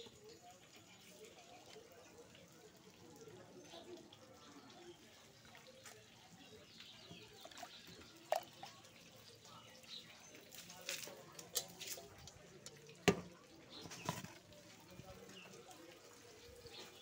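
A kitchen faucet runs quietly while food is rinsed, a faint steady trickle of water with occasional splashes and clinks, and a person talks nearby.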